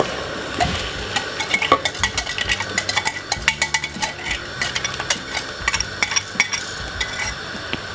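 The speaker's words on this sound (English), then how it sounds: "give it a little whisk like this" A whisk beats an almond and green plantain porridge mixture made with coconut milk in a pot, Jamaican style, producing a steady rhythm of close metallic clicks and taps against the pot with soft wet swishing, no talk.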